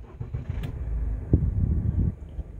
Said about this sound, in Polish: A teraz odpalanie silnika